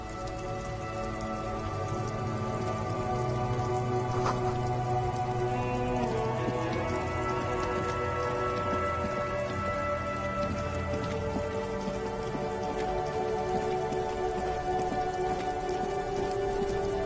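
Steady rain falls in the video game Disco Elysium, a constant dense hiss of drops spattering on surfaces that carries on evenly throughout, with faint tonal ambience underneath and no voices.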